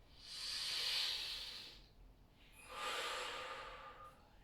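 Two long, breathy exhalations come through the mouth during a back-strengthening exercise, close and soft, with a short pause between the airy outbreaths.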